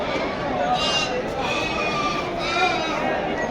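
Bandur cross sheep on a farm near Mandya bleat in a steady chorus over a rough, crowded background, with faint voices mixed in throughout.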